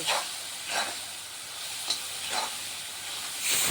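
Nutmeg, mace and cumin spice mix roasting in a pan, stirred in a few slow scraping strokes over a steady soft sizzle and hiss, close and moderately quiet.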